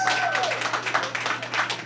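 Audience at a Caribbean Heritage Month celebration in a Caribbean-owned restaurant applauds the hosting team: dense, steady clapping from a crowd fills the room, with a few voices and a brief tone near the start.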